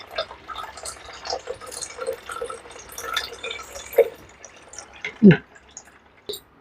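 Lime and water blended in a mixer are strained, giving irregular drips and small liquid splashes with a few sharper clinks and taps, close by, amid quiet kitchen movement.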